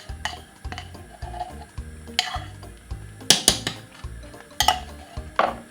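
Cornmeal porridge stirred in a pot, a spoon scraping and knocking rhythmically against the pot sides with periodic sharp clinks, close and steady without talk.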